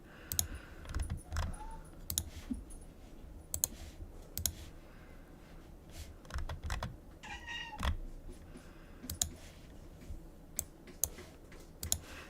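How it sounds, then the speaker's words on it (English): A pet cat, a female, lets out a run of loud, insistent meows in a quiet room, mixed with sharp clicks and taps as she paws at glass, with no talking. "She is singing her kitten song."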